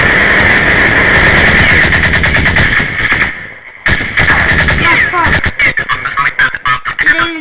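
Counter-Strike match with dense rapid-fire gunfire in long bursts, a short pause, then more staccato shots and thuds, loud and close, with game sounds mixed in.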